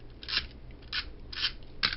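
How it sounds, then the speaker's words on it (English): Scissors snipping through ribbon at close range, four crisp separate cuts spaced about half a second apart against a quiet background. "cut the ribbon"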